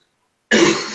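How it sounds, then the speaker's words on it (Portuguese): A single abrupt cough bursts out after half a second of silence, loud and close, trailing off with a rough breathy tail. "Eu vou tossir."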